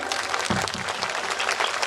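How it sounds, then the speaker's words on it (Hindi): Steady applause from a crowd at a Shrimad Bhagwat Katha religious recitation, a dense wash of clapping that holds at an even level throughout. "जोरदार तालियां उनके लिए"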